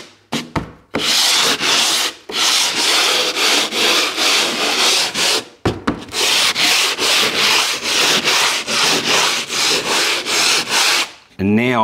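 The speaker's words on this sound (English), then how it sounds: "there's one really important thing to note when you are sanding" Coarse sandpaper lightly sands dried plasterboard filler on a repaired wall, a loud rhythmic series of scratchy back-and-forth strokes with brief pauses between passes, close and without talk.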